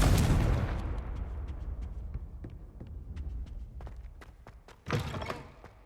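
Confringo fire spell in the Hogwarts Legacy game: a booming blast at the start whose rumble decays over several seconds, scattered sharp crackles and thuds, and a second smaller impact near the end.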